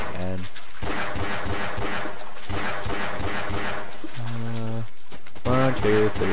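Rapid gunfire in the Half-Life video game, bursts of repeated shots crowding much of the clip with short gaps between volleys, loud and close, mixed with game music.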